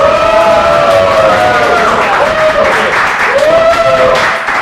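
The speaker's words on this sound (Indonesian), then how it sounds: "Oke, tepuk tangan dong" Audience applause at a student awards introduction, a steady wash of clapping from a crowd that runs throughout, with a voice or tonal sound weaving over it.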